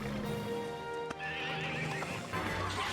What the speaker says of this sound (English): that man summoned a horse